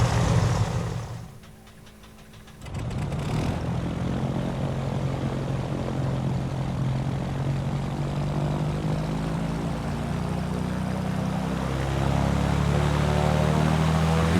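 A Turbo Arrow's engine in Microsoft Flight Simulator, at Birr Aerodrome, Ireland, opens up after a brief lull: a loud, steady propeller drone with a turbocharged tone that holds strong and swells slightly toward the end.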